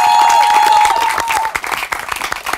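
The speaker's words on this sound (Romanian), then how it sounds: "un rând de aplauze pentru ei." Live show audience breaks into loud, close applause, dense clapping with a brief tonal whistle near the start, thinning into scattered claps toward the end.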